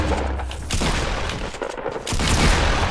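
Rapid pump shotgun blasts in a video game, a dense loud burst of gunfire fading briefly and then returning at full strength, with no voices over it.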